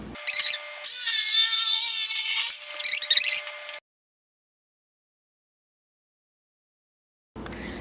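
A power saw cuts wood for a DIY mountain bike kicker ramp, a loud close high-pitched whine lasting about three seconds with a few shorter bursts, followed by silence and then faint background noise.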